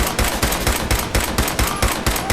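Rapid automatic gunfire from the player's weapon in Fallout 4: about ten loud, close shots in a steady, fast rhythm with no talking.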